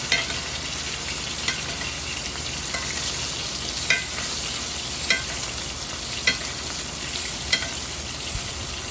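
London broil steak searing in a skillet, a loud continuous sizzle close up with regular soft pops and crackles roughly every second.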